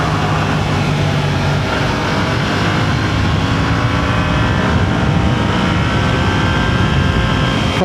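Motorcycle engine and exhaust droning while riding, a buzzy, wasp-like tone heard as a continuous loud roar mixed with heavy wind rush, steady throughout without talk.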